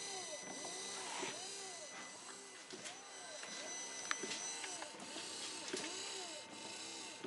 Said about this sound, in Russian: включаю дворники.